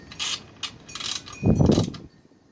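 A chain adjuster on a Honda CBR500R motorcycle is tightened with a tool, giving short bursts of close metallic ratcheting clicks followed by a louder, denser grinding stretch before it stops.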